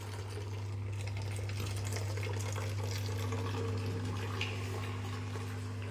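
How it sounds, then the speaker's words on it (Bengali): Dirty water draining from a running dishwasher during a home kitchen vlog, a steady continuous hum and watery rush with a strong low drone, holding evenly at moderate level throughout with no talk. "এরকম ডিশওয়াশার যখন চলে না, এই যে যে ধুচ্ছে যে জলটা, সেটা এইভাবে ড্রেন হয়ে বেরিয়ে যায়"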